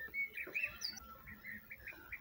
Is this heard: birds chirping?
yes